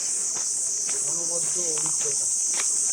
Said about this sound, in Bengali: নিরিবিলি, নির্জন, শুধু ঝিঝি পোকার আওয়াজ